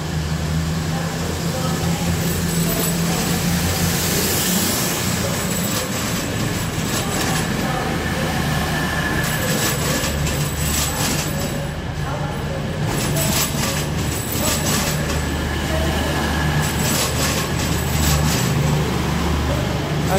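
An East Midlands Railway train rolls through Nottingham with a continuous heavy rumble and faint wheel squeal that stays loud and near for the full twenty seconds.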